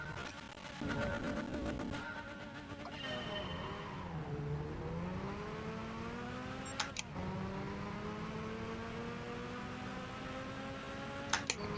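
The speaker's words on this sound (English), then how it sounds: "there's no turbo sound, there's no turbo gauge, just the V12 engine" V12 engine roar from a Jaguar XJ220 concept in the video game Gran Turismo 5, no turbo sound, rising and falling through gear changes, revving high then dropping, with a few sharp clicks near the end.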